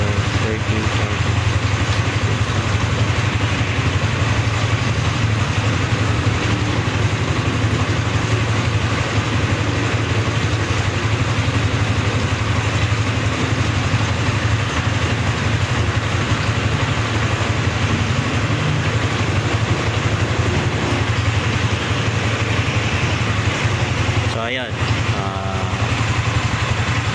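A Yamaha Sniper 155 motorcycle engine idles steadily and loudly for the whole stretch, with an even low putter and a brief knock near the end.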